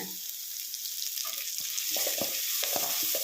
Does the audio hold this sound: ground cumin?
yes